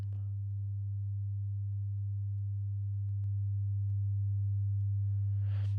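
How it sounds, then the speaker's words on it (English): A steady low sine test tone runs through a distortion plugin with the drive raised slightly, a continuous hum that shifts a little midway, with faint noise bursts at the start and end. "let's beef up the distortion just a little bit."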